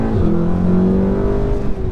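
A Stage 2 tuned 2016 VW Golf R engine roars loudly and continuously on a motorway, its pitch climbing steadily as the car accelerates hard to 70 mph.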